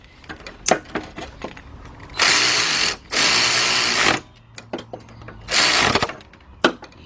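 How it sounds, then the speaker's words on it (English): A cordless impact wrench with a 10 mm shallow socket, used on a Ford Fiesta engine during head gasket and timing belt work, gives three loud, close bursts of rattling hammering, about one second each, separated by small clicks and handling noises. "Then I'm going to take my 10 millimeter shallow on my cordless impact."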